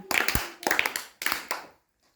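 A few bursts of hand clapping, loud and close, each a quick cluster of sharp claps, then silence.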